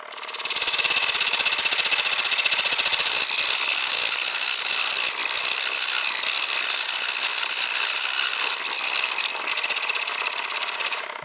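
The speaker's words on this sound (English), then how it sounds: "I'll do a quick test on the brass just to see how well the coarse file works." A coarse file cuts into brass on a reproduced century-old machine, giving a loud, steady, gritty rasp with fast rattling strokes that run continuously from start to finish.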